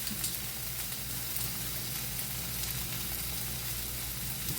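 Beef frying in oil in a pan for homemade hibachi, an even, dense sizzle that holds steady and close for several seconds with no talk over it.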